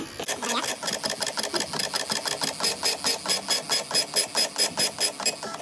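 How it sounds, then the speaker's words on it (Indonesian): A Panda PRJ-7645D printer running its self test makes a close, rhythmic series of rapid mechanical bursts, the print head buzzing back and forth about three times a second in a steady pattern. "Nah, printer akan melakukan self test."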